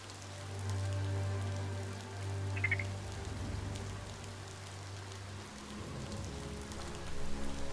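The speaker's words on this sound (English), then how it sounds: "Wait a minute. Rain?" Rain falling in the video game Biomutant, a steady patter of drops under a low humming drone, with a frog-like croak partway through, fairly quiet and continuous.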